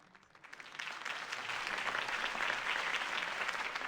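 Crowd applause in a video game follows a campaign speech, swelling from scattered claps into a sustained, dense wash of clapping that holds steady at moderate loudness.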